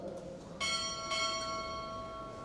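At a Navy recruit training chief pinning ceremony, a ship's bell is struck twice in quick succession, both bright metallic tones sustaining and slowly decaying in a quiet hall.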